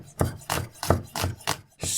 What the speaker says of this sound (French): C'est un oignon.